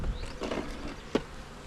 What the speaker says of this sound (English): there's a bunch of bees at the top there